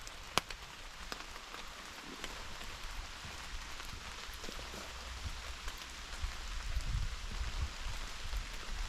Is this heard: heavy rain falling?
yes